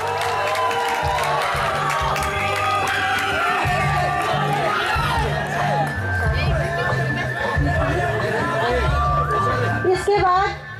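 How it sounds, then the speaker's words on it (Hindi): Crowd at an ITI Chamba day event cheers and applauds for best athlete Prabhat, a steady hubbub of clapping, chatter and whoops that runs throughout, with an announcer's voice over the noise. "जोरदार तालियां प्रभात के लिए।"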